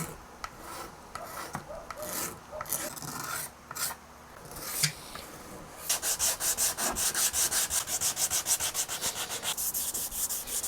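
A wooden guitar body has a bevel sanded with a hard block: quiet rasping rubs at first, then a steady run of rhythmic back-and-forth strokes, close and alone without talk.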